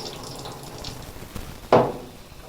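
Water runs into a container to soak bird seed, a single splashing pour that rises sharply, then fades over a quiet, faintly hissing background.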